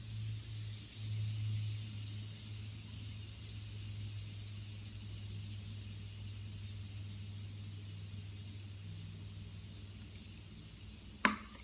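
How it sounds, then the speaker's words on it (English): Water poured onto hot gravel inside a crested gecko egg incubator gives a steady, soft hiss and sizzle over a low hum, ending in one sharp click. "it's steaming, it's sizzling."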